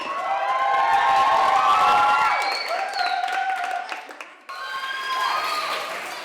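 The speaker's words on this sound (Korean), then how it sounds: "아이들에게 참가자들은 박수와 환호를 보낸다" A crowd cheers and shouts loudly for performing children, with high children's voices and scattered clapping, the noise easing off toward the end.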